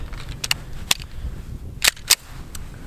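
Several sharp, snappy suppressed 9mm pistol shots from a light platform fitted with a modular Q Erector silencer, fired in irregular succession outdoors, each a short crack with quick decay.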